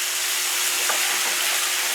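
Taco meat sizzles and fries in a pan with a steady, dense hiss, close and continuous with no voices.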